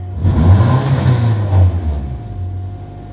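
Car engine hanging at about 1600 RPM after the throttle is released, a loud, steady close-up drone that holds for a second or two and then sags lower as it settles back down.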